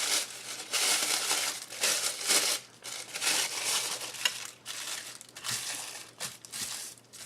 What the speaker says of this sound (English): So I'm just going to crumple it up like so.